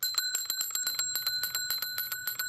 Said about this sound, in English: Dorothy, I have a bell on my tricycle, and this is how I ring it.